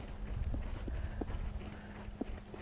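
Horse hooves thudding at a steady rhythmic gait while longeing on a big circle, a sensitive, energetic mare; moderate level over a low background rumble, with no talk.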